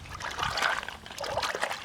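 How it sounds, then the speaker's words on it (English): Water trickles and splashes over stone outdoors in the mountains, a close, uneven babble that swells and dips for about two seconds, with no speech. "water on the stone"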